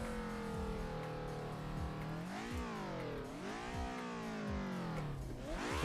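Several race car engines roar together at the start of an Assetto Corsa sim-racing race, loud and continuous, their pitch rising and falling through gear changes. No one talks.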